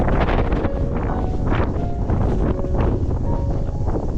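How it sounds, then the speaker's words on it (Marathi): Strong wind roars steadily against the microphone on a hill fort beside a deep valley, a constant heavy rumble with gusting swells and no voices. "खूप सोसाट्याचा वारा असल्यामुळे"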